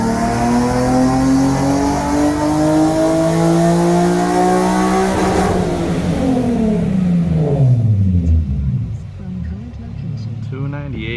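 A Nissan S15 with intakes and single exit exhaust revs hard on a dyno during tuning, engine pitch climbing steadily to a loud peak and then dropping off as the run winds down, close and dominant.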